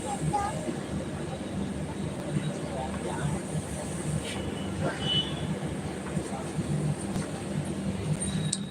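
Steady rumble of a moving train heard from inside the carriage, a dense continuous low roar with faint rattles and high squeaks, with a voice talking over it.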